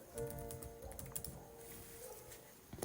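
Rapid clicking keystrokes on a computer keyboard while entering cardholder details for a hotel reservation, a steady close patter of typing with no one speaking.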